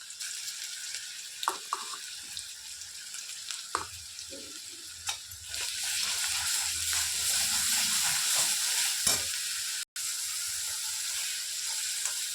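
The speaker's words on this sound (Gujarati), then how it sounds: "આંચ ઉપર તેને ફ્રાય કરવાનું।" Garlic paste fries in oil over a low flame, a steady soft sizzle that grows fuller midway, with a few sharp clinks and stirring scrapes of a utensil against the pan.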